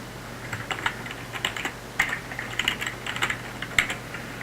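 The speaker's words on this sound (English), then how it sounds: "So you just type in a title for it." Someone types a title on a computer keyboard: a steady run of soft, close key clicks at an uneven pace, with no talk.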